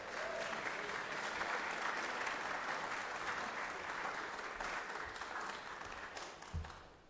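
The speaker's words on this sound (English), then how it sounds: "Let's give her a big round of applause here." Sustained applause fills the Georgia Senate chamber as legislators clap for a senator's mother, a steady dense wash of many hands at moderate level that thins out near the end.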